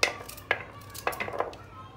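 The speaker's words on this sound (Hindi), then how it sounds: "इसलिए पहले मैं गाजर को काट देती हूँ। थोड़ा बड़ा बड़ा ही काटेंगे" A knife chops carrots into large pieces on a board while making tomato carrot soup, giving four or five sharp, close strikes spaced unevenly across two seconds.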